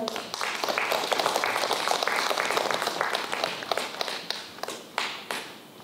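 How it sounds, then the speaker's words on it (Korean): An audience applauds to welcome the chairwoman of a poetry recitation society at a small theatre event in Chuncheon, steady dense clapping that thins toward the end with a few scattered claps. "박수로 환영해 주세요."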